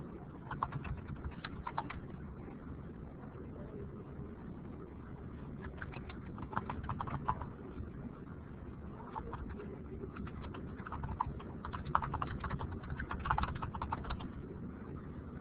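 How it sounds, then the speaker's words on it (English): Several people type on computer keyboards at once, a steady patter of soft clicks with busier bursts throughout a quiet room, and no one speaks. "I see people typing."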